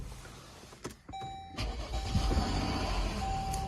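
Jeep Grand Cherokee 3.6 liter V6 cranks with a starter whine and a chime, then fires up and settles into a steady, close idle rumble.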